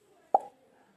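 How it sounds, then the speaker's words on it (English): A single sharp pop as hydrogen gas ignites at a lit matchstick held to the mouth of a test tube, a short close burst that fades quickly into quiet. "hydrogen gas is formed, which burnt, making this significant pop sound"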